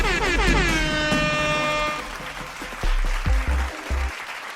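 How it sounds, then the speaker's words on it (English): A soundboard air horn blasts in loud, brassy repeated bursts for about two seconds, followed by cheering-like applause and a few heavy thumping hits. "this one gets an air horn"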